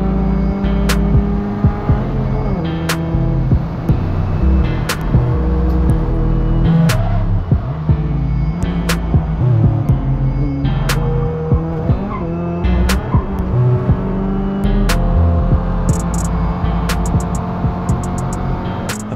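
A Peugeot 208 Racing Cup race car driving hard on a track, with a steady loud engine drone, gear changes, and repeated squeals and skids from the tires under braking, heard from close by.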